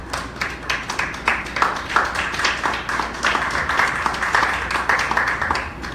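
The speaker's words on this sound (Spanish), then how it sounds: "Denle un aplauso al Señor." A church congregation claps and applauds in a steady, moderately loud patter of many hands, with faint voices mixed in.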